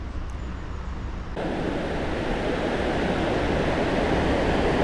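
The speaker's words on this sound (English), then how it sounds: "That's an awful lot of water coming over there." River water pours over the gates beside a fish pass in a constant rushing roar, growing louder and fuller partway through and continuing without a break.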